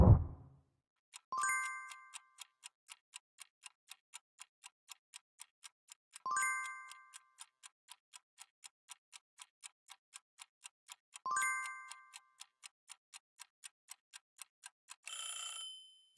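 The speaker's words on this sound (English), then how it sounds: "I'm setting a timer for you to solve on the clock" A clock timer ticks steadily and evenly during a timed test question, with a louder chime-like ding recurring about every five seconds, clear and alone.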